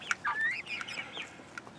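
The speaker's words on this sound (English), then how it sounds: "I have chickens pecking on my feet" Several chickens cluck and chatter nearby, pecking at feet, in short, busy bursts, with soft warbling calls overlapping.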